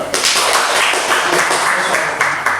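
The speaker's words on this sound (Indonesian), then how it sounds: "Tepuk tangan dulu" A classroom of students claps their hands together during an Islamic studies lesson: a dense, steady patter of many hands, close and fairly loud, lasting a few seconds.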